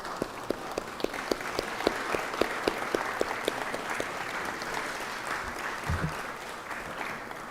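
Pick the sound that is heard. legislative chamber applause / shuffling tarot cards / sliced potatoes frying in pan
legislative chamber applause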